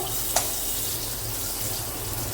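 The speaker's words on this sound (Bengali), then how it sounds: "তো চলো পটলটাকে আগে ভেজে নিই" A soft, steady sizzle of split pointed gourd frying in oil in a pan, quiet and continuous, with a single brief clink near the start.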